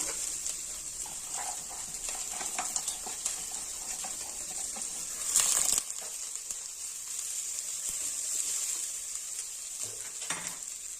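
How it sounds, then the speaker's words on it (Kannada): Chopped cluster beans added to half-fried onions in a pan for a cluster beans palya, giving a steady bright sizzle throughout, with occasional stirring clinks and a brief louder burst midway. "ಈರುಳ್ಳಿ ಒಂದು ಅರ್ಧ ಫ್ರೈ ಆಗಿದೆ. ಅದಕ್ಕೆ ಸಣ್ಣಗೆ ಹೆಚ್ಕೊಂಡಿರೋ ಗೋರೆಕಾಯಿ,"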